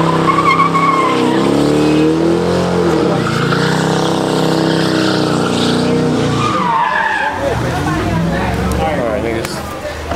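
A car doing burnouts in a parking lot, a loud sustained engine roar with tire squeal and skidding running throughout, with people talking over it.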